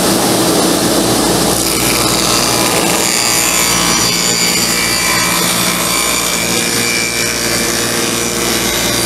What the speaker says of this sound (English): Here's my dado set up. All it is two saw blades with a small chipper blade in it.